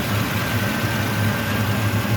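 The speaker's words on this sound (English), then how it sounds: "It's barely idling at all." A 1969 Ford Mustang Mach 1 engine idles roughly and low, a steady rumble with a faint uneven pulse and a thin whine on top, heard up close with no voices.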